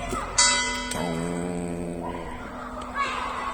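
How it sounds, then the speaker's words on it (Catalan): Church bells ringing with a strong, sustained tone and rich overtones, struck a couple of times and left to hum, fairly close and loud. "Toquen campanes."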